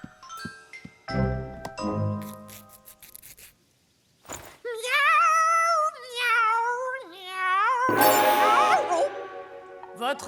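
A cartoon character's voice imitates a cat, singing a string of wavering, melodic meows with chimes and light music around it. There are short gaps between phrases.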